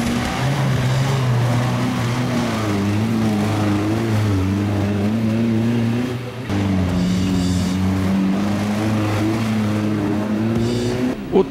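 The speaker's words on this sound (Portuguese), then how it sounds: "O troller acelerou na entrada e desacelerou na saída" A Troller off-road jeep engine roars loud and close on a club trail, holding a strained, rising drone that dips briefly then climbs again under heavy throttle.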